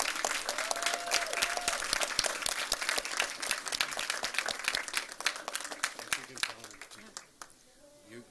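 A school poetry contest audience gives student poets a big round of applause: dense, close clapping that runs strong for several seconds, then thins and fades away near the end.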